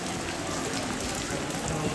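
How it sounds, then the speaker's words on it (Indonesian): Steady rain falls outdoors during a funeral ceremony in Pa'tengko, a dense, even hiss of drops on surfaces that carries through the whole stretch with no clear voices over it. "Hujan."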